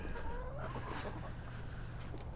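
Backyard chickens clucking close by in a steady run of short calls, with low ambient rumble underneath and no talk.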